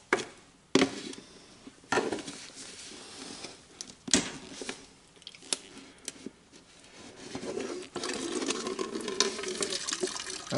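Gas and water drain from a Briggs & Stratton small engine, giving an irregular splashing, trickling pour with sporadic clunks and knocks; close and moderately loud, with no talking.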